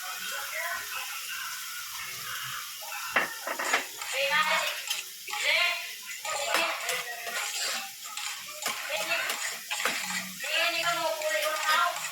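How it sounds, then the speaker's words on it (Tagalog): Tomato and onion sautéed in olive oil in a pan for an Italian omelette, with metal utensils clinking and scraping against the cookware and a faint sizzle, while a person talks over the cooking. "igisa natin muna yung kamatis sibuyas natin sa olive oil"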